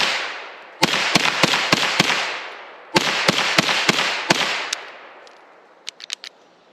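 Two rapid strings of 9mm gunshots from a KelTec Sub2000 Gen3 carbine on a test-fire, about five sharp loud cracks each with echoing decay, followed by a few faint clicks and small metallic handling noises.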